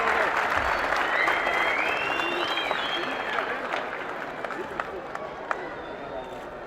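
Spectators at a judo league opening applauding loudly, a dense sustained wash of clapping that gradually fades, with a voice speaking over it.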